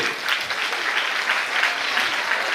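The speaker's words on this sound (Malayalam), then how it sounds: "എല്ലാവരും കൈയടിച്ചേ." A church audience at an Onam celebration claps together in dense, steady applause that fills the room from start to finish, with no voices standing out.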